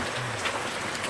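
Steady rain falls in Tembuku, a dense, even hiss of drops on surfaces throughout, close and fairly loud with no voices.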